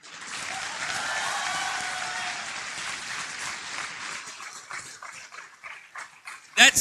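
Loud sustained applause from a large audience honouring parents at an institute's annual convocation, steady at first then thinning into scattered claps, with a sharp burst at the end.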